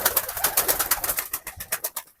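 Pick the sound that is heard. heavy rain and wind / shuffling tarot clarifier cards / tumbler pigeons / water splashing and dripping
tumbler pigeons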